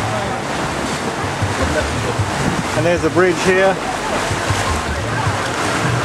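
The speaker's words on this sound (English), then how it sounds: "Wait, we're getting splashed here." Water splashes against a tour boat cruising the Malacca River, with a constant wash of surf-like noise and wind buffeting the microphone, while someone talks briefly over it near the middle.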